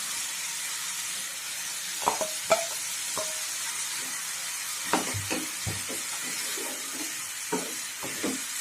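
Shrimp and tomatoes frying in a pan, a constant bright sizzle and hiss close by, broken by irregular scraping and clacking of a spatula stirring against the pan; no talking.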